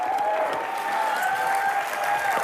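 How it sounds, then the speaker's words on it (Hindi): Studio audience of a Hindi comedy night show applauds a guest, Umang Kumar, with continuous, even clapping that stays loud and close from start to finish, a faint tone riding above it. "जोरदार तालियां एक बार उमंग कुमार के लिए"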